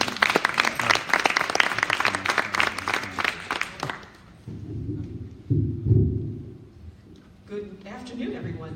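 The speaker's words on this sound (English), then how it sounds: "let's give Joan a round of applause" An audience at an art center symposium and exhibition breaks into loud, dense clapping that fades after about four seconds, followed by a voice talking.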